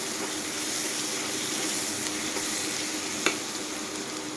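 Ginger garlic paste sizzles in a hot pan with a dense, even crackle, close and constant, and a single sharp click stands out near the end.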